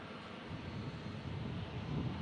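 Steady, broad jet-engine roar of an airliner taking off at Omaha's Eppley Airfield, a continuous rushing rumble that swells slightly toward the end, heard alone without talk.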